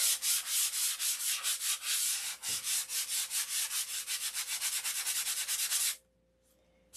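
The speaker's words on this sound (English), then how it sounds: "I'll hang on the dope here until I get these little wrinkles sanded out." Light sanding of doped silkspan covering to smooth out wrinkles: a fast, steady run of close, loud abrasive strokes in even rhythm, stopping abruptly near the end, with no talking.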